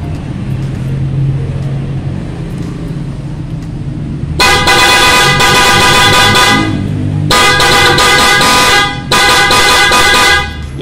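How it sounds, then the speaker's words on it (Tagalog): A stock horn on a Honda PCX 160 ABS scooter blares loud and near, sounded in three sustained blasts of a few seconds each after a quiet stretch. "lalagay natin yung busina niyang ano"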